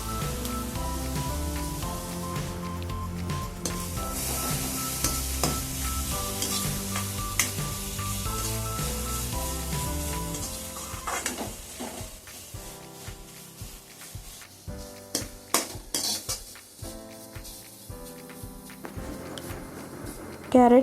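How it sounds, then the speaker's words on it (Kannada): Carrots frying in ghee for sabbakki carrot payasa, a sustained sizzle with repeated stirring and scraping of the pan, then softer intermittent clinks and scrapes later on. "ಇದೇ ತುಪ್ಪದೊಳಗೆ ಕ್ಯಾರೆಟನ್ನು ಸೇರಿಸಿ, ಕ್ಯಾರೆಟ್ ಚೆನ್ನಾಗಿ ಸ್ಮೂತಾಗಿ ಹಸಿ ವಾಸನೆ ಬಿಡೋವರೆಗೂ ಚೆನ್ನಾಗಿ"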